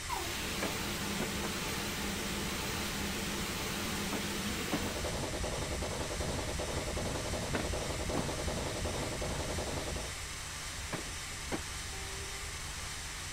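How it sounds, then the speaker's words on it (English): A steam locomotive on the Isle of Wight railway in Train Simulator 2015 approaches with a steady, loud engine rumble and hiss, joined by intermittent clanks and knocks, the tone shifting and quieting slightly near the end. "Now we just have to wait for the engine to get here."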